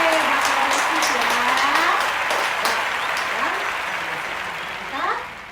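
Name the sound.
applause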